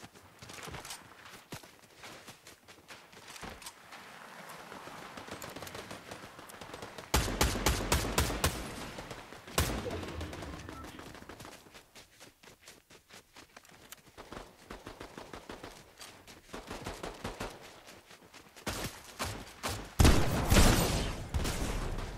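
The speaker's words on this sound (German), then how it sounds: "da vorne sind Schüsse" Bursts of rapid gunfire crackle in stretches in Fortnite, sharp repeated shots alternating with quieter rumbling and footsteps, like a game's battle sounds.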